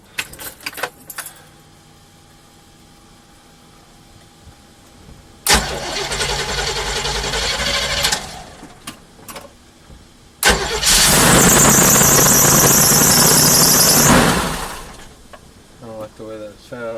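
RV engine starting after an alternator replacement: keys jangle, the starter cranks briefly, then a second longer crank roars loud and close, followed by quieter sounds with speech near the end.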